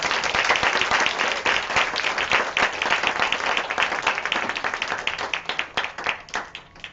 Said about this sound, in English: Can we have one more round of applause, please?